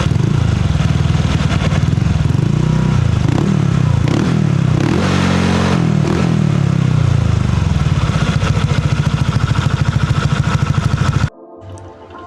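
A Honda Vario scooter's custom exhaust with the full filter revs up and down, loud and close, with a throaty rising and falling engine note that cuts off abruptly near the end.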